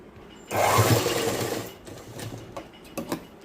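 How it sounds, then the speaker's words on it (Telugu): An electric sewing machine stitches a boys' school uniform shirt in a short, steady whirring run of about a second, then quieter handling clicks and rustles. "ఈ విధంగా చూసుకొని కుట్టు అయితే వేస్తున్నాను"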